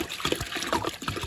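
Water trickles and splashes briefly as it is poured into a cooking pot, a soft, short pour heard up close.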